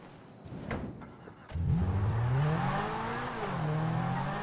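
A car engine in GTA Online revs up sharply after a few quiet clicks, its pitch climbing and holding in a loud, close whine, then dipping and rising again near the end.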